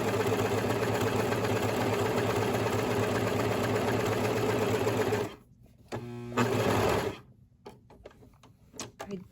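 A Brother 1034D serger stitches cotton flannel with a loud, steady mechanical whir for about five seconds, then stops; a short second burst follows, then quiet handling ticks.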